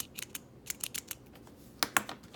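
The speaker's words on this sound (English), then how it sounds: "if you want to hear the click, here's the Rapid Pro" Rotring Rapid Pro ballpoint pen having its push button clicked repeatedly, a run of sharp, light plastic-metal clicks in irregular pairs, close and fairly quiet against a soft background.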